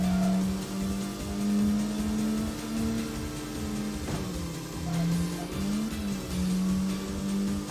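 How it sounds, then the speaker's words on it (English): Lancer Evo rally car engines racing in the street racing game Tokyo Xtreme Racer, a steady droning whine that rises and falls in pitch with repeated revving, loud and close, with no talk. "Rally cars on the road."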